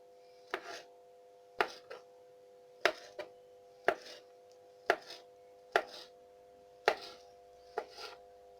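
A knife chops through bananas on a board for a cake, making about eight crisp, evenly spaced cuts, each a sharp close tap, some with a softer follow-up knock, over a faint steady hum.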